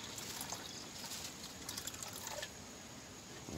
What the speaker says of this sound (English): dilute small amount of water.